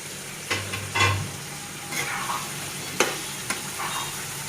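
Cut black eggplant pieces frying in a pan, a soft steady sizzle with a few faint stirring clinks and scrapes scattered through.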